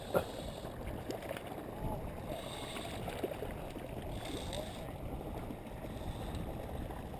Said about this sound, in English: I hear water gushing